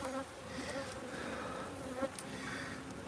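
Honey bees buzz steadily around an opened beehive during hive maintenance while smoke is applied, a dense continuous insect drone held at an even level throughout, with no voices.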